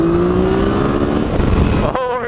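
A 2015 Yamaha FJ-09 motorcycle accelerates hard in second gear, its three-cylinder engine note rising loud and close under wind rush before briefly easing off.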